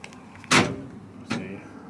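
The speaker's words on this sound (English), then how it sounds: "Door locks." Power door locks on a 1970 Chevelle with a supercharged LSX swap actuate twice, each a short, sharp mechanical clunk about three-quarters of a second apart, close up and otherwise quiet outdoors.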